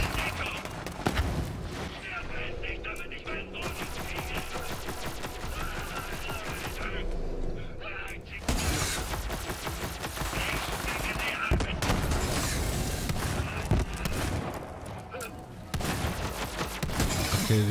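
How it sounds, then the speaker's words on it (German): A grenade is thrown amid rapid gunfire in the shooter game Borderlands 3, with dense, continuous volleys of shots and blasts layered with game noise, and someone talking over the action. "Granate geht raus!"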